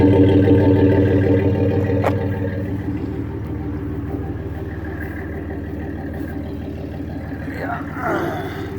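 A car with stainless exhaust and a Flowmaster 40 Series muffler idles with a deep, steady rumble, while a person talks over it throughout.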